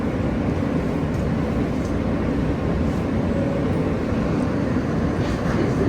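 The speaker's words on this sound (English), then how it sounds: "This is a Brooklyn-bound F train via the N local line." A steady, loud low rumble of a New York City subway train, a Brooklyn-bound F train, running along the tracks, continuous and close, with no voices.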